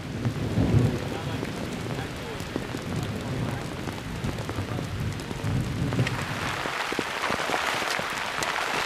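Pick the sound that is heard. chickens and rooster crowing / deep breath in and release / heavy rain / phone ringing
heavy rain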